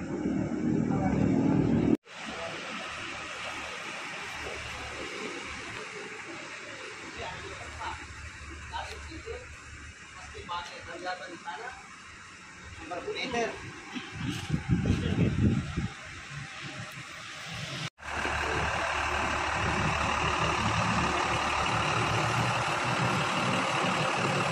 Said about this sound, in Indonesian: Suara mesin Hino